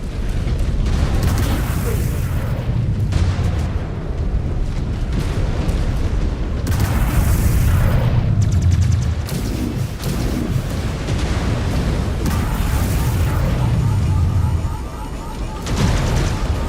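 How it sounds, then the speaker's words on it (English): Reactor explosion of a mech in the video game Mechwarrior 5: Clans, a loud sustained rumbling boom with bursts and blasts running continuously amid combat effects, with a voice speaking over the din. "That reactor's gonna blow."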